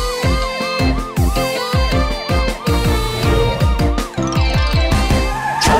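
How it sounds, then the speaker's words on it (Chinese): Cartoon police car and ambulance siren effects sweep up and down repeatedly, loud and close, within a bouncy children's song about rescue vehicles, with rhythmic backing music throughout. "超雷达警车雷克， 飞天救护车安琪， 装甲消防车高迪， 超级汽车出动"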